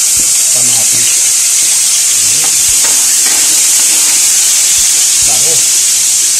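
Eggplant and tomatoes frying in oil in a pan for pork sinigang, a steady loud hiss and sizzle throughout, with a few faint clinks and utensil sounds over it.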